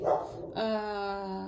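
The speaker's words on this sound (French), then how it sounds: "vous allez entendre mon chien aboyer" A dog barks once up close and then lets out a drawn-out, whining yelp indoors, loud and clear with no talking over it.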